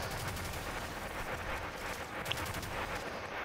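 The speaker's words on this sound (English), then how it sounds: "Are you just shooting at the rock?" Rapid gunfire in a video game, dense continuous bursts at steady volume with no talk.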